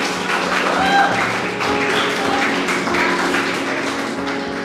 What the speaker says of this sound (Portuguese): por favor, aplauda ao Senhor Jesus de Nazaré.